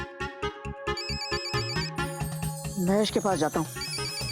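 A mobile phone ringtone plays as a loud, repeating electronic melody in a Hindi comedy sitcom scene. Someone talks over it in Hindi, and the tune keeps going under and between his lines.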